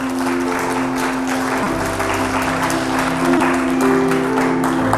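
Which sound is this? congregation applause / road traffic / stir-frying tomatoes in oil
congregation applause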